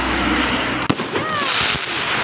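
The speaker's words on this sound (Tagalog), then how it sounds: "Pero may mga putok-putok na, may mga fireworks na." New Year's Eve fireworks and firecrackers pop and crackle nonstop through the night air. A sharp loud bang lands near the middle, and whistling rockets rise over the background barrage.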